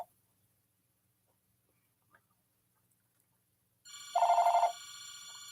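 A telephone rings during a live stream after near silence, one loud electronic trill burst followed by a quieter continuing ring, close and alone.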